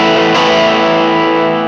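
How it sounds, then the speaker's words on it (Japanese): Electric guitar played through a multi-effects unit with a light crunch distortion, a single sustained strummed chord ringing out loudly and evenly on its own for under two seconds. "控えめ、あっさりめな歪みのことをクランチって言ったりして、オーバードライブをあっさりめにかけることによって作ることもできます。"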